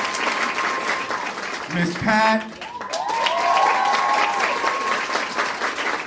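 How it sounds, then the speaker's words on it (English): An audience at a dance recital gives a round of applause, a dense steady clatter of many hands; a presenter speaks over it before and after, with a brief whoop. "Big round of applause."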